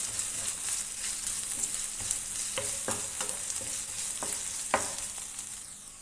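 Crushed green chillies are stirred into a mixed vegetable curry in a pan, making a soft steady sizzle. Scattered scrapes and taps of the spoon against the pan come through, and no one speaks.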